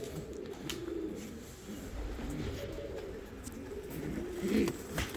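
Fancy show and costume pigeons, lemon-winged birds in a loft, coo with low rolling calls that come and go, moderately close, over a soft background hum, with no talking.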